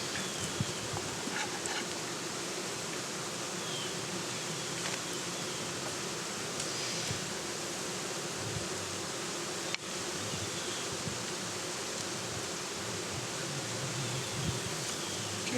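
Honey bees drone steadily around an opened hive, a dense continuous buzz holding at even loudness throughout with no voices over it.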